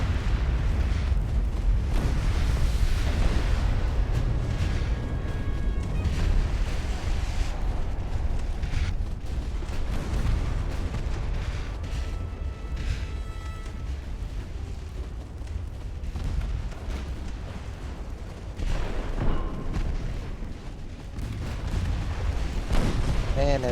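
Torpedo explosions and gunfire in the naval battle game Ultimate Admiral: Dreadnoughts, with deep rumbling booms and heavy bursts layered over a constant roar of battle throughout.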